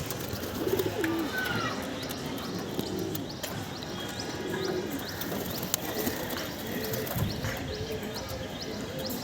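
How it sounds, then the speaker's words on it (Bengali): Sky pigeons, including young birds, coo repeatedly in a loft, with soft overlapping calls and some faint chirps over a steady background hum. "বাচ্চা কবুতরের একটা ভিডিও করি"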